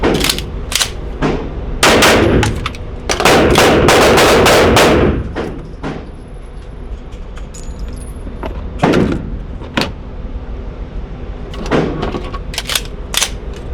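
Pistol shots ring out during a USPSA shooting drill, a loud rapid string of sharp cracks in quick bursts with pauses between, followed by a few more isolated shots and small clattering handling noises.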